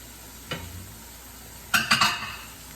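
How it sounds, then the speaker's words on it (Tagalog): A spoon scrapes and stirs food frying in a pan, with one clatter early on and then a quick run of three sharper scrapes over a soft, steady sizzle. "Paghaluin nyo para mas masarap, mga kababayan"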